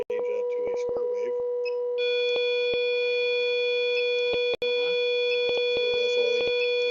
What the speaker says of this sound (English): now we change that to a square wave